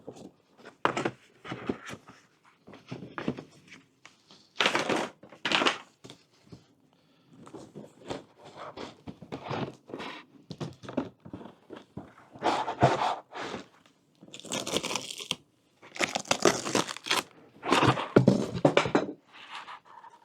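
Packaging of a Ninja Woodfire electric outdoor pizza oven being handled, with intermittent rustling, scraping and crinkling bursts of varying loudness, close by and without talk.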